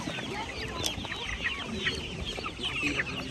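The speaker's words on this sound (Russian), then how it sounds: "Курочек много." Chickens at a market stall, sold as vaccinated birds alongside broilers, cluck and chirp repeatedly in quick overlapping bursts, moderately close, with faint background voices and market bustle.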